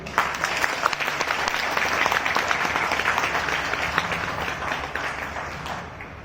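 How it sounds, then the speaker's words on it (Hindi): An audience at a motivational speech on happiness claps loudly and steadily, dense applause filling the hall before tapering slightly at the end. "इस बात में ताली हो गई।"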